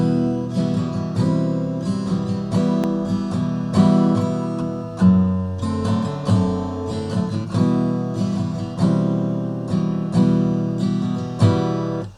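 The opening chord progression of a song plays as a full band mix, with layered harmonic chords and rhythmic accents changing every second or so. It runs continuously for about twelve seconds, with no talk over it.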